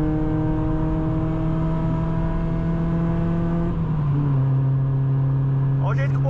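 A Chevrolet Astra 16v engine on a highway drones loudly and steadily at rising revs, then its pitch drops as the gear shifts before it climbs again. Someone speaks briefly near the end.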